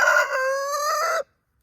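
A rooster crows once up close, a loud drawn-out call that cuts off sharply into silence.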